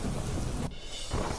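A heavy monsoon downpour in Chhattisgarh roars steadily with rumbling thunder, a dense continuous wash of rain that dips briefly in the middle before returning at full strength.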